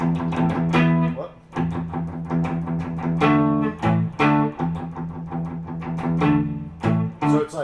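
Electric guitar played through a distortion effect, chunky plucked eighth-note riffs with sustained chords in a blues-rock style, loud and close with brief gaps between phrases.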